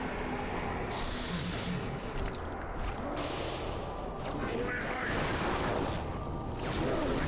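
Video game gunfire with a shotgun-wielding Flood enemy in a battle, sounding as dense, continuous volleys and crackling shots under a steady wash of game noise and music.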